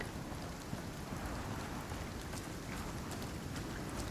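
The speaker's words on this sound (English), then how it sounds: "Storm also slowing us down." Steady storm rain in the Icarus survival game, a dense, continuous hiss of rainfall pattering on surfaces with a low rumbling undertone, constant and fairly loud throughout with no voices.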